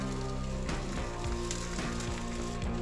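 Herbal salt solution poured onto the hot stones of a banya sauna stove hisses and sizzles continuously, with crackling pops and drips throughout at close range.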